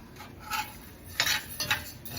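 A spoon scrapes and clinks in a pan of rice as it toasts, stirred in a few short bursts close by with no talking.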